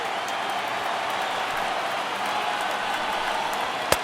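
A baseball stadium crowd of more than 36,000 roars steadily as fans rise to their feet for the final strike of a no-hitter, a dense, continuous wash of cheering with no break.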